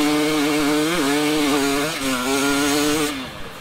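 A 2020 KTM 300 TPI two-stroke enduro motorcycle revving hard after a downshift, a loud, raspy, buzzing engine note that dips briefly and climbs again, held steady close by with no talking.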